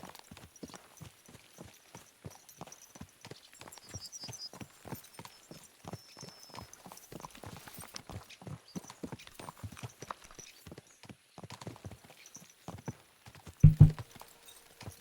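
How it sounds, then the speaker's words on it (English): Horses gallop in the video game Kingdom Come: Deliverance II, their hooves clip-clopping in a quick, steady rhythm throughout, with a louder thump near the end and no talking. "Let's really spur these horses on, eh?"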